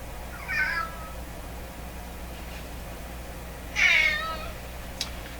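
A cat meows twice, the first call short and the second longer and louder, separated by a few seconds of quiet room hiss with faint electrical hum.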